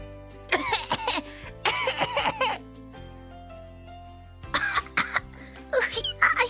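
Several bursts of harsh coughing and throat clearing separated by short pauses, close and fairly loud, with a faint steady hum in the background.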